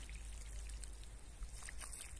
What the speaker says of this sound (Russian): наливаю полную ямку воды.